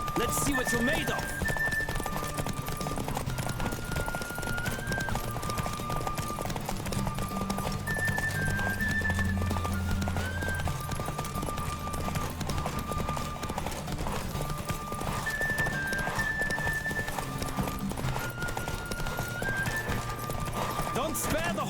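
Galloping horse hooves pound steadily in The Witcher 3 horse race, an even clip-clop rhythm with an occasional whinny, mixed under game music and riders shouting.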